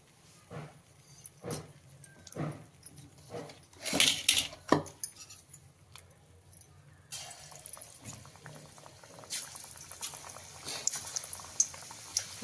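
Hadga flower fritters frying in hot oil, with a steady close sizzle and bubbling under clinks of a metal utensil against the pan, the frying swelling louder midway.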